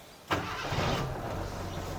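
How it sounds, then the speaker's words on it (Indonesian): A 2000 Suzuki Katana GX engine with a manual three-pedal gearbox fires up abruptly and runs steadily. It revs quickly in a loud, close, continuous drone, and no one speaks. "Ini mesin sudah nyala, entah dengar atau enggak suaranya. Ini RPM-nya itu naiknya cepet."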